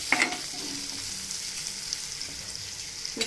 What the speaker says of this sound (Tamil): இப்போ இது நல்லா ஃப்ரை ஆகிடுச்சு